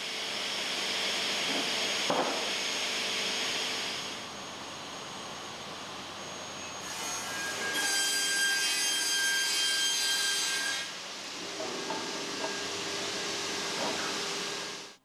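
Piano makers at the Bösendorfer workshop rough-cut wood parts destined for a grand piano with a power saw, giving a loud, sustained whine that swells and eases over several long cutting passes, with no voices.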